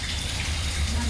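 Water pours over a full village dam in a steady, close, loud rush of broadband noise with no breaks.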